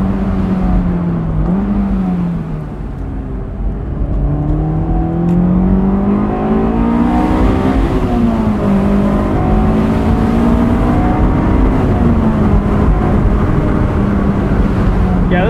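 A 2005 Honda S2000 AP2 engine accelerates on the road, heard from inside the cabin as a loud, continuous droning note whose pitch rises and dips with throttle and gear changes.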